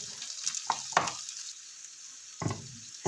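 Butter, about two tablespoons, sizzles in a frying pan for ground beef, a faint close crackle with a few brief bursts as it is stirred.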